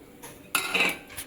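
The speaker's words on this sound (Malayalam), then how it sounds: "പതുക്കെ പതുക്കെ നല്ലപോലെ ഇളക്കി വെള്ളമായിട്ട് യോജിപ്പിച്ചെടുക്കാം" Roasted semolina is stirred into boiling water in a pot, giving a few quick metal spoon scrapes and clinks against the pot in a short, close burst.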